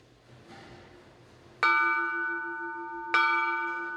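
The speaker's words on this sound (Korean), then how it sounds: "식사를 하다가 종이 울리면 모든 행동을 멈추어야 한다." A meditation bell rung during a meal, struck twice about a second and a half apart, each strike a clear resonant ring that lingers and fades in a quiet room.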